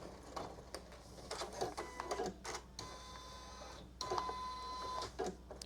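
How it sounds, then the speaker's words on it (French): A Janome Memory Craft 1000 embroidery machine trims its thread and stitches a tie-off, producing quick faint mechanical clicks and taps and a brief thin whine, close by and quiet, with no talking. "Donc, ça découpe son fil, ça fait son point d'arrêt."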